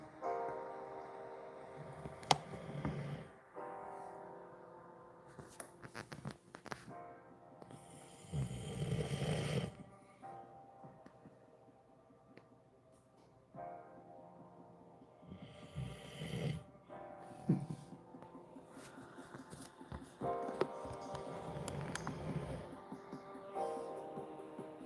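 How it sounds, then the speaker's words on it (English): Someone sleeping close by snores in slow, repeated cycles, with rumbling, snorting breaths that rise and fall in loudness over a quiet room. "And snoring."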